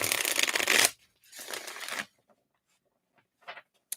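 A deck of reading cards is riffled close up in two quick bursts, followed by a few soft taps and shuffling touches.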